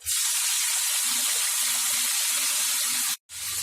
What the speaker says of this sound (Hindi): तेल गर्म हो चुका है। अब मैं इसमें गोश्त के पीसेस डाल देती हूँ।